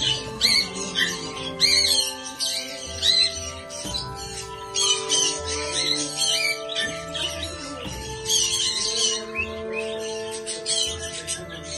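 Parrots at Souq Al Wakrah, the old market in Doha, Qatar, give repeated shrill squawks and chirps, close and busy, over a steady tonal background that sounds like music.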